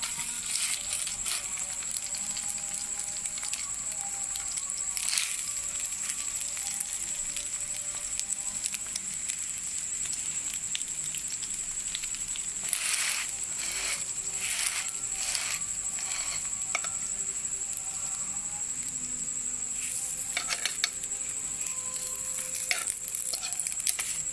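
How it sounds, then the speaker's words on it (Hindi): An egg shami burger fries in a pan with a thin film of oil, giving a steady close sizzle with scattered crackles and pops throughout and no talking. "इस तरह मैं ना दूसरा फ्राई करूंगी"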